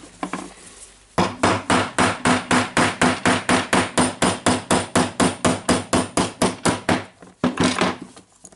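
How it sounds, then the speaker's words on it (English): Steady hammer blows on a metal gear from a 1998 Makita cordless drill being restored, struck against an anvil: about twenty even, ringing strikes in a fast regular rhythm, close and loud, with a short pause and a few more hits at the end. "I don't want to hammer too strong to not damage this anvil"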